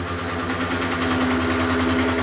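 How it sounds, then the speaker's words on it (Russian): Moped engine running during a cold start, with idle speed climbing on its own, a steady close buzzing drone with a strong hum and no talk. "То есть, как видите, сейчас двигатель начал сыпать обороты."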